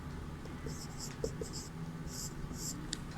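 Pen scratching across paper in short strokes during a Sanskrit lesson for a sixth-grade class, close and fairly quiet against a low steady room hum.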